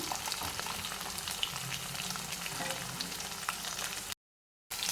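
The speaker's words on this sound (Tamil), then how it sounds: "இந்த எண்ணெயிலேயே அதை நல்லா வதக்கிக்கிங்க" Onion and garlic frying in oil in a pan, a steady, close crackling sizzle that keeps up without a break and cuts out briefly near the end.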